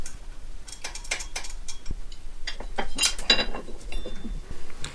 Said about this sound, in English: if you have a ratcheting spanner, they come in really handy